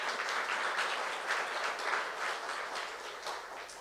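A church congregation at a youth service sermon breaks into sustained applause, a dense, even wash of clapping that carries on steadily, with no talking over it.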